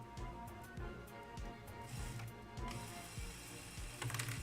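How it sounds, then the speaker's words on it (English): A motorized LEGO wood chipper pulling a minifigure into its mechanism, with a dense, continuous ratcheting and clicking of plastic gears close by and no speech. "Put a minifig in the chipper."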